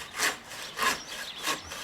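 A bow saw rasps back and forth through soft, rotten apple tree wood in three steady strokes, close and fairly loud, with no talking.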